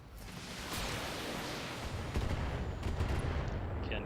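Locust mech in BattleTech firing missiles, a sustained barrage of rapid overlapping launches and impacts, dense and rattling throughout, with sharper hits standing out near the end.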